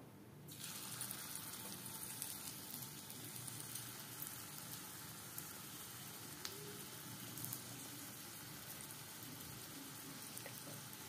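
Onion pakoras, sliced onion mixed with gram flour, salt, chili and a little sugar, frying in hot oil, giving a steady, even sizzle and crackle that carries on without voices.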